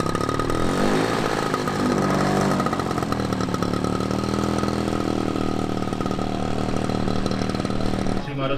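A large 80 cc petrol engine drives a 16 kg model airplane with a 3 m wingspan at a model aircraft meet at an airfield, a loud, steady, buzzing drone that cuts off near the end, with a voice speaking over it.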